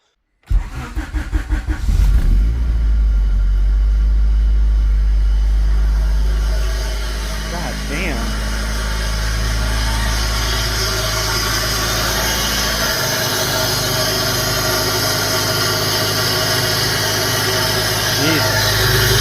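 Honda Integra engine cranks briefly and catches, then settles into a loud, steady idle with a deep rumble and constant mechanical drone that continues to the end, close up and alone.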